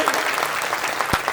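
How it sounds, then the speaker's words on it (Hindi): A crowd at a Youth Congress rally in Godda claps loudly on the speaker's request, a thick burst of hand claps lasting about a second, close and busy. "जरा जोरदार ताली उस लड़ाई के लिए बजाइए।"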